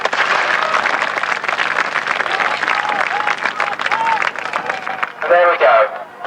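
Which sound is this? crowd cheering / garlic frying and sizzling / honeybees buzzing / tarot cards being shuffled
crowd cheering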